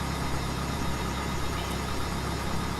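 A Cessna 172 piston engine idles cold in Flight Simulator X, a steady low droning hum with faint knocking texture that holds evenly throughout and ends with a brief soft click.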